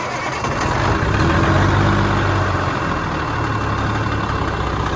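A Cummins diesel with a leaking PT pump in a cabover truck, a loud, close, low rumbling idle running steadily after start-up.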